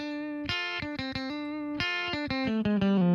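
A compressed, distorted electric guitar, processed with multiband compression, plays chunky chords in a steady rhythm, dense and evenly loud throughout, with no voices.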